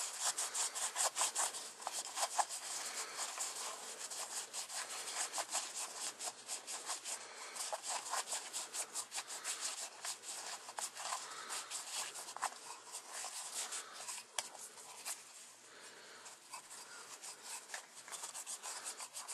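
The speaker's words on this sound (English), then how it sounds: "start wiping it off before it all evaporates." A cloth wipes sprayed cleaner off a metal storage tin, a quiet steady run of rapid scrubbing and rubbing strokes that continues throughout with no talking.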